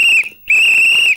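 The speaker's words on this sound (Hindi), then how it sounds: "अरे भाई सीटी धीरे से बजाना, मेरे कान पक रहे।" A loud, shrill whistle blown in two sustained blasts separated by a short gap, piercing and close with no talk.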